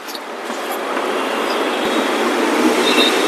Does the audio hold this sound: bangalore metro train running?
yes